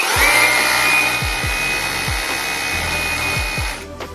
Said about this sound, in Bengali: এখানে দেখতেছেন আপনার ড্রিল প্লাস হ্যামার